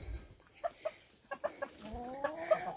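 Backyard chickens, a silver Wyandotte hen among them, give soft scattered clucks and short murmuring calls close by in a quiet yard, one rising into a longer trill near the end.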